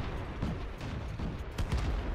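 Constant gunfire and cannon blasts in World of Tanks gameplay, with dense rapid shots over a loud battle wash lasting a couple of seconds and no clear speech.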